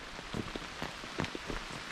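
Light rain patters steadily on a surface outdoors at a bushcraft camp, a soft, dense hiss broken by scattered, irregular drop taps, with no voices.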